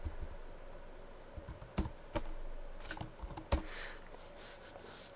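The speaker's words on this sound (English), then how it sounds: "of course I have to type better" Typing on a computer keyboard, with scattered key clicks and several sharper, louder strikes in an uneven rhythm, close and fairly quiet, with no talk over it.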